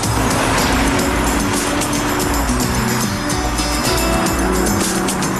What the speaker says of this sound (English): The rumbling roar of the 6-cylinder does detract from the comfort on a longer, fast-speed journey down the highway.